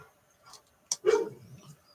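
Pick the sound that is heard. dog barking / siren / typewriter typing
dog barking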